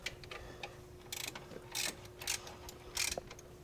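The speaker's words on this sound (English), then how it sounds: "That was a 13 millimeter. I'll go ahead and thread that back in now." A 13 millimeter bolt being threaded back in on a BMW engine, securing the dipstick tube to the motor support during PCV breather system work, gives a series of close, short metallic ratcheting bursts with brief pauses between them.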